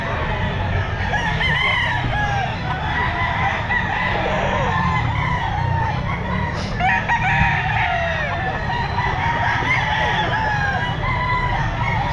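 A bull stag rooster crows at the Grotto pet market, surrounded by clucking fowl and a dense, steady wash of crowd and market noise that never lets up.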